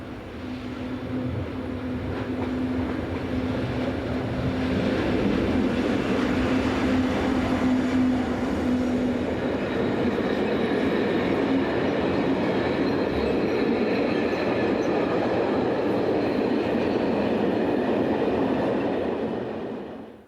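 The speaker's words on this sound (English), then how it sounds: "11180 drifts through with the freight for the Alton line." Class 66 diesel locomotive 66180 drifting through with a freight train on a European railway line, a sustained rumble of engine and rolling wagons that builds up and holds steady for about twenty seconds, with faint wheel squeal, then fades at the end.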